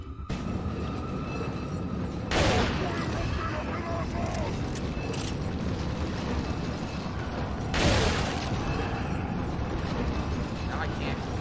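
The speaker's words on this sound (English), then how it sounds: "Shotgun time." Two heavy shotgun blasts go off several seconds apart in the video game Resident Evil 4, standing out over steady mechanical game noise while a person talks.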